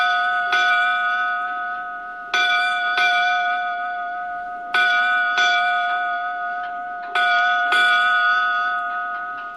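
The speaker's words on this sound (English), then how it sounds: "and our 8 bells." Bells ring out as a tribute to the departed, struck in clear, resonant pairs with a sustained ringing tone. The strokes come loud and near, with long decays between, and no voices are heard.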